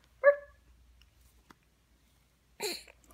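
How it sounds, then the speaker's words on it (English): Two short, sharp dog barks separated by about two seconds of near silence, close and clear. "Your dog is barking."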